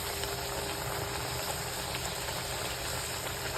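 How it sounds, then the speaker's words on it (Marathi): Puris frying in hot oil on a high flame, a dense, even sizzle and bubbling hiss filling the whole stretch without break. "आता तेल तापलेले मी पुऱ्या टाकून घेते"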